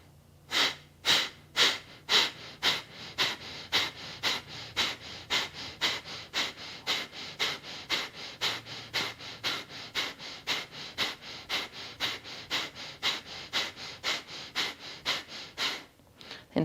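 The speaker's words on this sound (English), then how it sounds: "Then take a deep breath in through the nose. Deep breath out, let it go." Rapid rhythmic breathing during cleansing breathwork, about thirty sharp, forceful nasal breaths in a steady quick cycle, close and alone.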